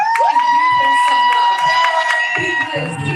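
An audience claps, cheers and whoops for a man, a loud, sustained crowd roar with a tonal squeal running through it.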